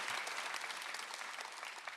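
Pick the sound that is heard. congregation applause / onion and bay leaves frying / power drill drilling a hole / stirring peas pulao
congregation applause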